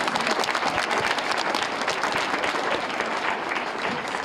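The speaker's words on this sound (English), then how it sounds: "So a big round of applause for all of them" Dense, sustained audience applause at a children's theater performance, a steady wash of many hands clapping together at even loudness from start to finish.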